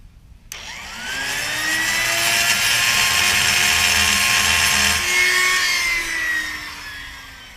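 A power drill spins up abruptly and runs steadily at high speed for several seconds with a whining tone that shifts once partway through, close and loud, while fitting a hitch rack with lights.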